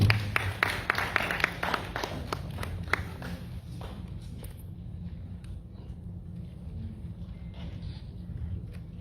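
Audience applause at a Liberian delegation meeting in Minnesota, a burst of clapping that fades to scattered claps and quiet room noise by the middle.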